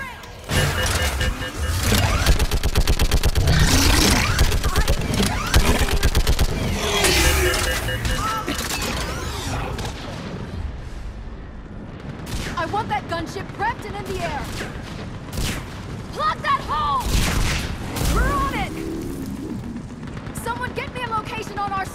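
A mounted gun fires heavy, sustained rounds during a breached-barrier battle in Mass Effect 3, loud and dense for the first stretch, then broken into scattered shots mixed with shouted speech and battle noise.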